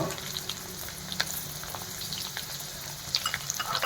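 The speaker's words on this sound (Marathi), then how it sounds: "आता शेवगा हा परतला जात आहे" Moringa drumstick pieces sautéing in a pan for Maharashtrian pithale, giving a steady close sizzle with scattered crackles and pops, no voices.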